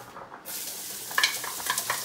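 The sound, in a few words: onion frying in a pan for clam spaghetti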